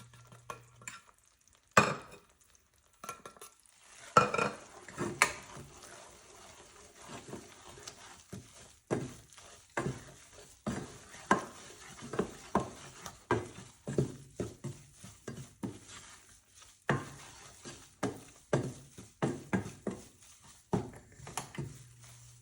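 Roasted wheat flour is worked into a hot base of jaggery and ghee for Gujarati sukhdi, giving repeated rhythmic scraping and stirring knocks against the pan, each stroke distinct, close and moderately loud over a faint background.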